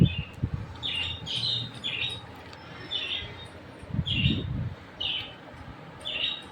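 A parrot squawks repeatedly in short harsh bursts, several calls spaced a second or so apart, with some low thumps and background noise in between.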